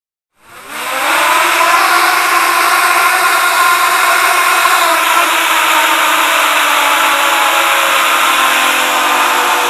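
CC3D-controlled multirotor drone with its motors spinning up from silence into a loud, steady, high-pitched whirring buzz that holds at constant speed, close by and alone.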